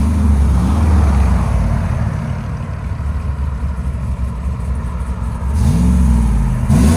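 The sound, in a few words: cammed GMC Sierra 6.2L V8 revving with exhaust valves closed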